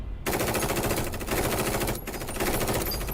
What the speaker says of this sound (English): I guess Psycho Mantis can block a sniper bullet